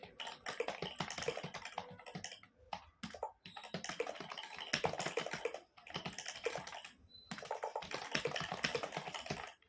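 Rapid bursts of typing on a membrane keyboard altered to give a mechanical keyboard sound, with dense clicky keystrokes close up in several runs separated by short pauses.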